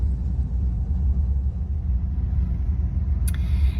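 An old carburetted car engine idling as it warms up, a steady low rumble throughout, close and fairly loud, with a brief faint high click near the end.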